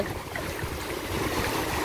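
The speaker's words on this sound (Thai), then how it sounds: "เนี่ยน้ำกำลังขึ้นแหละคลื่นกำลังสวยแล้ว" Sea waves wash steadily onto the sandy shore of Ban Krut beach, a broad continuous surf roar close by and fairly loud, with no voices.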